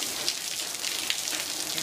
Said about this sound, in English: As you can see, the rain is pouring there.